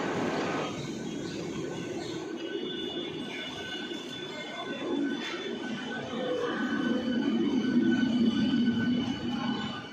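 A Mumbai commuter train rumbles steadily along, the clatter swelling slightly louder toward the end, with a thin high whine above the noise.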